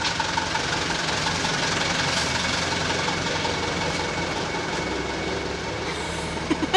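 A truck rumbles past on a busy Jakarta street, a steady low engine drone with knocking texture holding throughout, fairly close and continuous.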